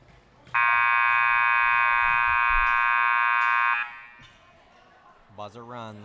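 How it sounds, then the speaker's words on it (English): A game clock buzzer at a varsity boys volleyball match blares one loud, steady tone for about three seconds in a gym, followed by a voice speaking. "Buzzer runs."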